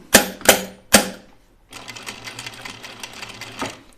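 Sewing machine top stitching knit fabric for a pajama top: three sharp close stitching bursts, then a steady rattling run of the machine for the remaining seconds, no talk.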